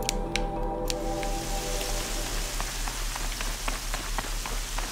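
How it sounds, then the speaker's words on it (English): Steady rain falling in Horizon Zero Dawn, a dense continuous patter of drops on surfaces with a low ambient hum beneath, no talking. "I'm so happy it starts raining now"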